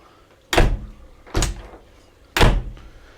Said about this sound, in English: So let's get and close the door, see how it works.